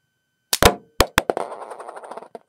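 A Lego RoboRiders toy launcher from the Swamp and Lava 2000 sets, heard as sharp plastic clicks and snaps as it is pulled and released, then the wheel clattering and bouncing away, close and loud, with no talk.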